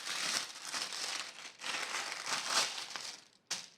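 Sticky protective film peeled off a diamond painting canvas: a steady, close crackling and crinkling with a brief pause near the end before one last sharp tug.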